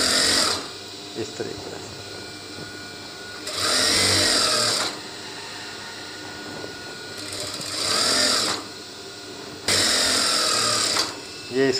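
Sewing machine stitching a double seam on trousers, four loud whirring bursts of about one to two seconds each, separated by pauses filled with someone talking and fabric handling.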